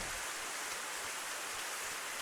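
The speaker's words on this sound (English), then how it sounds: "Oh crap, it's raining!" Rain falling outdoors at night in the fall, a soft, even hiss of drops with no pauses, fairly faint and steady throughout, with no voices.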